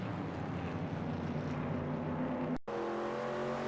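NASCAR race car lapping Martinsville Speedway in NASCAR Racing 2002, a steady, loud engine drone held at high revs throughout, broken by a brief cut near the end.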